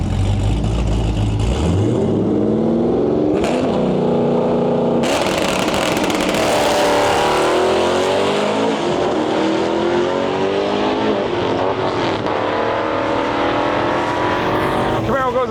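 Camaro drag racing at a drag-and-drive event, engines roaring loudly down the strip with rising revs and gear shifts, bursts of crowd and background noise, and an announcer's voice over parts of it.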